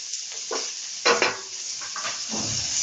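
Chopped green chilies fry in hot oil in a pan for vegetable Hakka noodles, giving a close, continuous sizzle broken by a few louder spattering bursts as they are stirred. No one speaks.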